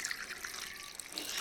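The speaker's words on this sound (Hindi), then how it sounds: "और अब इसमें इस तरह से अच्छे से पानी डाल देंगे।" Water poured from above into the soil of a potted hydrangea, a continuous close splashing trickle with a bright hiss and a few small drips, no talking.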